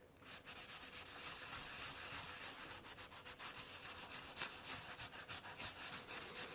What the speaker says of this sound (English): I wanted to sand this down to get a much smoother finish.